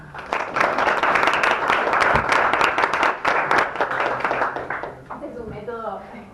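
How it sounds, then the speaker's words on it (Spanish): Applause from an audience at a digital marketing conference following a talk, dense clapping that thins out, giving way to a speaker's voice at the end. "Un aplauso."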